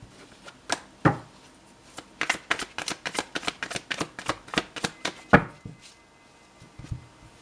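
Tarot cards are shuffled close up in quick bursts of crisp riffling clicks that pause briefly and resume, with no one speaking.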